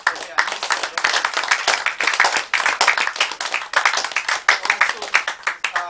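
Audience of housemates clapping in a room, close energetic rhythmic hand claps in rapid pulsing waves, loud and continuous with uneven bursts.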